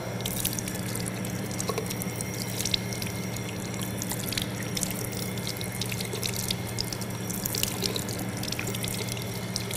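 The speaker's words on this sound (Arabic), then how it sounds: "نأخذ الماء من بداية اليد إلى المرفق ثلاث" Water runs steadily from a tap and splashes while an arm is washed for ablution, a continuous close hiss with scattered drips and small splashes, no speech.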